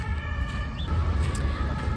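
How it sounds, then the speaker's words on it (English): A wailing emergency siren drifts over a steady rumble of city traffic, distant but continuous, with no talking. "and then I hear the sirens"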